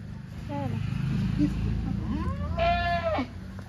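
A pregnant goat close to kidding bleats a few times nearby, the longest and loudest cry near the end, over a steady farmyard background with people talking.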